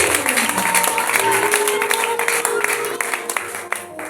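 A church congregation applauds loudly and continuously in dense clapping, with voices mixed in at Easter worship.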